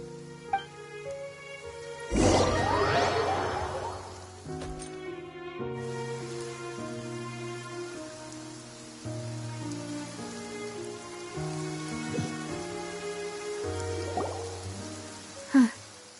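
Steady rain falls in the Fontaine region of Genshin Impact, a soft, continuous patter with a heavier gust early on, heard beneath a gentle melodic score.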